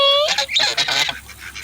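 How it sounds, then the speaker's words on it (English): Several geese honk loudly and close by, outdoors in the rain among ducks, with a few sharp overlapping calls at the start and rougher, throaty cackling that follows. "Geese."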